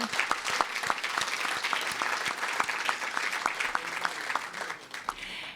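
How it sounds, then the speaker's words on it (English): An audience at a live event breaks into sustained applause, many hands clapping in a dense, even patter that stays strong before easing slightly at the end. "So I would like to, let's applaud Terry Lowry."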